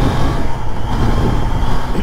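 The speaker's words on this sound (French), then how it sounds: "En ce qui concerne le bruit de l'échappement," A Triumph Trident 660 three-cylinder motorcycle exhaust idles close by, a steady dense rumble with no pauses and no voices.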